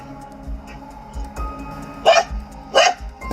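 Guard dogs at a mango orchard in Jabalpur, Madhya Pradesh, give two sharp barks close by, spaced about a second apart, over a steady low outdoor background with faint softer sounds earlier.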